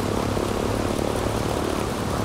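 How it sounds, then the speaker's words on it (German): A propeller airplane drones steadily in Ghost Recon Wildlands, a loud, unbroken engine roar with wind-like noise, flying slowly with no pauses. "Flugzeug langsam, ja."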